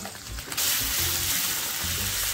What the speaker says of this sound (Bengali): তেল গরম হয়ে আসলে আদা ও রসুন কুচিটা প্রথমে দিয়ে দেব। দিয়ে কিছুক্ষণ নেড়ে চেড়ে নিয়ে চিকেন পেস্টটা দিয়ে দেব।